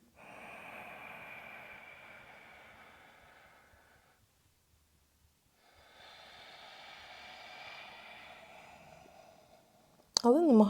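During a calm evening yoga practice, long, slow, airy breaths sound close and quiet, separated by a silent pause. A voice cuts in briefly at the very end.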